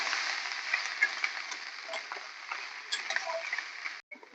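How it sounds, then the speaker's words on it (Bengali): Leftover cooked rice, just salted, stirred around a hot pan: a steady soft sizzle with scattered scraping clicks from the spatula throughout, close and moderately quiet, ending in a brief pause. "নুনটা দেওয়ার পর এবার খুব ভালো করে নাড়াচাড়া করে দেবো।"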